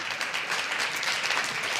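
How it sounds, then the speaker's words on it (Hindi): Continuous applause from a church congregation, a dense, steady clatter of many hands clapping at close range throughout, with no voices over it. "मुझे लगा मुझे तालियों की गड़गड़ाहट मिलेगी।"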